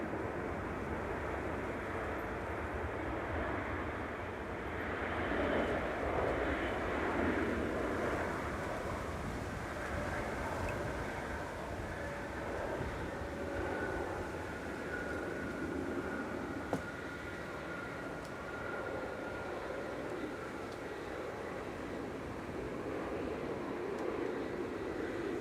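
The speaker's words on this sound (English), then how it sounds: "Etihad 787-9 Dreamliner with flight 75, coming in from Abu Dhabi" An Etihad Boeing 787-9 Dreamliner landing at Manchester Airport produces a faint, sustained jet whine and rumble that swells gently and lingers, mixed with wind noise and no talk.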